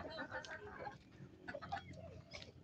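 Backyard chickens cluck and squawk in repeated bursts at close range, with pigeons around them on a village farm, over a steady outdoor murmur.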